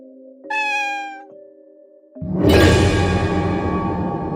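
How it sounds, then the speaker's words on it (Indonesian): A cat gives a clear, loud, drawn-out meow near the start, then a harsh, noisy yowl or caterwaul takes over and fills the rest of the moment. "Ini kucing apa nggak ngantuk ya dari tadi?"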